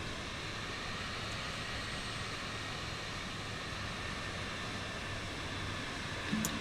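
Jet engine droning in flight in a video game, over the Seattle-Tacoma area, a steady, even whooshing roar with no breaks and a faint bump near the end.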